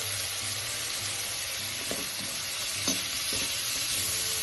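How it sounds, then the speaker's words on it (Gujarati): Sweet potato dry curry with coriander and lemon juice being mixed in a pan, a soft low sizzle with a few light spatula taps, quiet and close, no voices. "હવે આપણે આ બધી વસ્તુને બરાબર મિક્સ કરી દઈશું."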